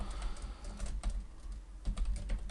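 Rapid close-up clatter of keys on a computer keyboard as an email address is typed, uneven bursts of quick taps with brief pauses between.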